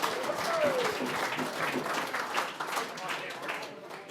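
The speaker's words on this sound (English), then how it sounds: "Big round of applause, please." An audience applauds at the Australian National Budgerigar Championship. The clapping is moderate and sustained, with a voice or faint chatter mixed in and a brief bird-like whistle early on.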